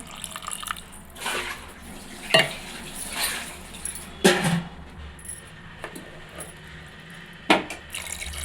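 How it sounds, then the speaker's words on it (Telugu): Water poured from a half glass into a simmering tamarind fish curry of small fish, with soft splashing and several sharp drips and clinks standing out over a quiet background; no talk. "ఒక అర గ్లాసు వాటర్ వేసుకోండి"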